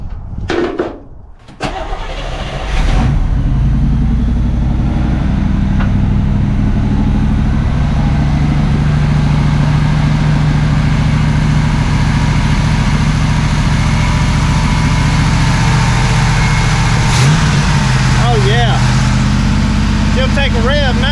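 A 1979 Camaro Z28 engine runs after a carburetor rebuild, starting with a few catches and then settling into a loud, steady idle with a rumbling low end, while people talk nearby.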